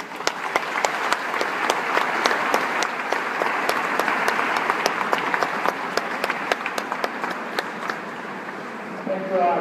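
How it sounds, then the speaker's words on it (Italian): A crowd applauds at an outdoor religious festival for the Madonna in Casandrino, a dense, lively clapping that swells and fades slightly, with sharp rhythmic claps standing out near the microphone and voices underneath. "Un applauso."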